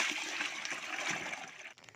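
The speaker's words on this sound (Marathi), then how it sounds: "एकदा पाणी टाकून अजून तशी हाताने मिक्स करून डाळ पाणी काढून घेऊया" Water sloshes and splashes steadily as mung dal is rinsed and rubbed by hand in a bowl, a close, continuous wet churning that eases off near the end.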